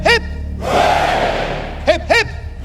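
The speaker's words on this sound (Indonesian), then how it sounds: "3 cheers for His Majesty the King." A large crowd roars a loud, sustained hurrah for King Charles III after a lone voice's call, followed by the caller starting the next round, all outdoors at a royal proclamation.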